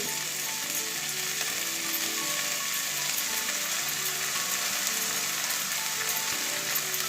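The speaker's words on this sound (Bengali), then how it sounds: "এবারে সর্ষে পোস্ত পেস্ট করা হয়ে গেছে আমার এবারে ঢেলে দিচ্ছি" Mustard and poppy seed paste poured into a drumstick curry in a hot pan, giving a steady, loud frying sizzle with faint stirring that runs through the whole stretch with no talk.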